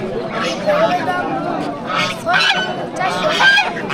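Ducks quack and honk repeatedly in a busy village market where ducks are sold, their calls close and overlapping amid crowd chatter and people talking.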